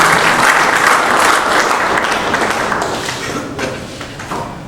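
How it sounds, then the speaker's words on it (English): A crowd claps in sustained applause, loud at first and gradually thinning out over a few seconds. "A big round of applause for United Nigeria."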